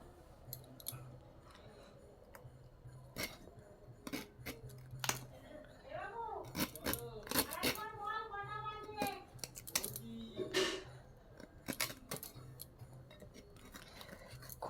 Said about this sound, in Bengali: একদম কচি এঁচোড়, খোসা ছাড়িয়ে নেব।